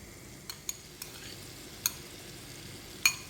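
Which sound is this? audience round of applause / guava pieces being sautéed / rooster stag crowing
guava pieces being sautéed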